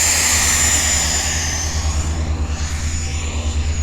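An FMS F-16 70mm electric ducted-fan RC model jet flies past, its loud, steady whooshing roar with a high whine holding throughout and drifting slightly in pitch as it moves.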